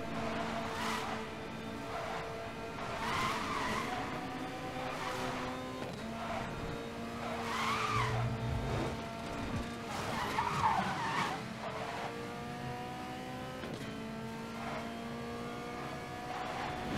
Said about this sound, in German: Man hört richtig, wie der Wagen schaltet.